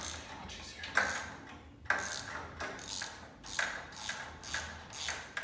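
Metallic ratcheting clicks as a 10mm wrench works the shifter bolt loose on a Victory motorcycle, a series of short, fairly close rasping bursts at a steady rhythm, with no talk over them.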